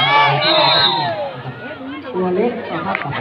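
A crowd of supporters cheers at a school sports day volleyball final, with loud shouting and chanting voices near the microphone, rising and falling in excited bursts.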